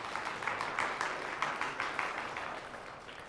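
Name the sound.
audience applause at a quiz game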